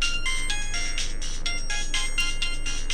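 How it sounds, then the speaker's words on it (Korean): A phone ringtone sounds in the e-Sports Life video game, a loud, bright electronic melody repeating in short bursts across the whole stretch with no talk over it. "뭐야, 전화 온다."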